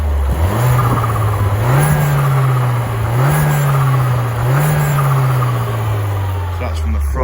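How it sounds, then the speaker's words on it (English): Peugeot 208 GTI 1.6 engine revved from the front of a warm car, three short blips rising and falling from a steady idle, loud and close. "So I'll give you a little rev from this side."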